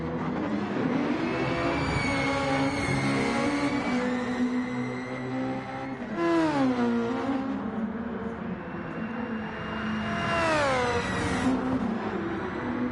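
Race car engines in Gran Turismo 7 at the Red Bull Ring drone and whine with an odd, screaming tone, rising and falling in pitch as several cars accelerate and pass, without any voices.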